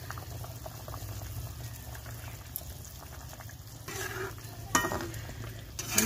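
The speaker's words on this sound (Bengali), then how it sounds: "মাছের ঝোল ফুটে গেছে, মাছটা ছেড়ে দিচ্ছি" Fish curry bubbling at a boil in a pot as small hilsa pieces go in, a low steady simmer with a few louder splashes and clatters near the end, no voices.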